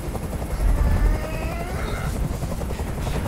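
Helicopter rotor noise in the video game Detroit: Become Human, a heavy low-end throb that swells loud early on and then holds steady, with faint tonal whines and scattered game sounds above it.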